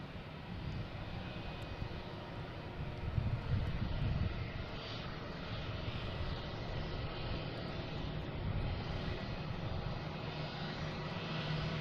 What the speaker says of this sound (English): we have JetBlue ready to take off, heading to Atlanta, an A320, flight 6697.